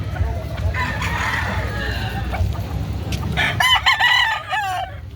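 A rooster crows loudly and close by at a chicken sale, its strained call rising over a steady murmur of crowd noise and clucking fowl.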